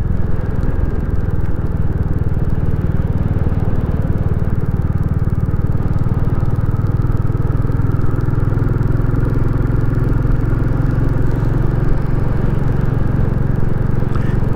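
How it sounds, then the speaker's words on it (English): Royal Enfield Classic 350 single-cylinder engine plodding along at low revs in a remote valley, a loud, steady deep thump with constant rumble and no talk. "I love the sound of this engine when you're just plodding on like this. Just thump, thump, thump, thump."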